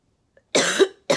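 A single sharp cough close by, followed by a brief second burst cut off at the end, with silence before it.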